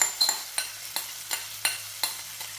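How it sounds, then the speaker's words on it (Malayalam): Fried fish being stirred into a pickle mixture in a pan, a utensil scraping in regular strokes about every third of a second over a soft sizzle, close and clear with no talking. "ഇനി നമുക്ക് നമ്മുടെ മീൻ ഇതിലോട്ടൊന്നിട്ട് വറുത്ത് വെച്ച മീൻ ഇടുക കേട്ടോ."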